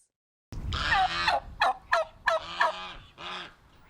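Turkeys gobbling at a farm, a flock of birds calling in several loud, rapid warbling bursts close by, one after another, then tapering off.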